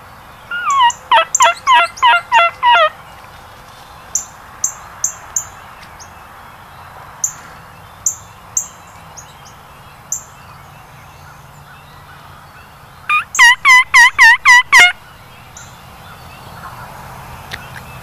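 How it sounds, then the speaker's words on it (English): Wild turkeys in New York gobble in two loud bursts of rapid calls, one near the start and one near the end, with scattered shorter calls between over quiet outdoor background. "The other 2 sound a lot closer"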